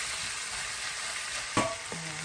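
Pork belly with soy sauce sizzling in its own rendered fat for adobo, a steady frying hiss with a brief clatter of stirring near the end, close and alone.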